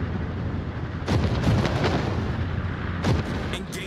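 Naval guns of warships firing in World of Warships, booming loud salvos roughly a second apart, with a deep rumble rolling beneath each shot over steady sea and engine ambience.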